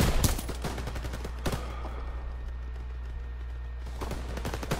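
Machine gun fire in Call of Duty WW2, a World War II shooter: loud rapid bursts open the clip, a single sharp report near the middle, then another rattling burst at the end over a steady low battlefield rumble.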